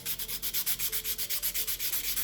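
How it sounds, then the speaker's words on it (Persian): Fine sandpaper rubs over a turquoise-inlaid jewelry stone in quick, even back-and-forth strokes, about seven per second, a close, steady rasping with no talk. "یه سنباده نرم بر میدارم و"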